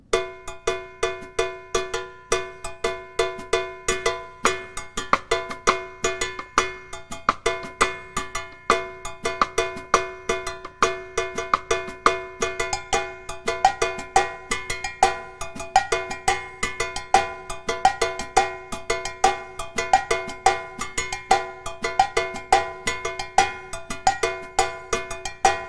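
A cowbell is struck in steady quarter notes as part of a funk drum groove, bright and close, with rapid drum strokes filling in between the hits throughout.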